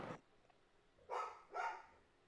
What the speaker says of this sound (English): he is really barking